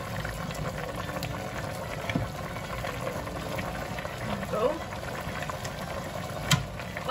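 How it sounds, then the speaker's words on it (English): Guinness for a venison Irish stew churns at a rapid boil in a pot, a constant close bubbling and hiss with a few small clinks from the kitchen. "our Guinness has now come to a rapid boil"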